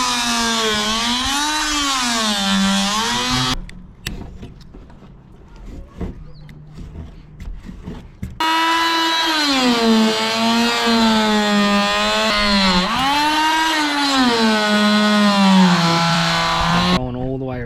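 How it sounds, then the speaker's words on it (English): An oscillating multi-tool cuts around a roof hatch on a bus under conversion, giving a loud, buzzing whine that wavers in pitch. It pauses for a few seconds midway, then resumes steadily. "Going all the way around it with the multi-tool, scrape a bit"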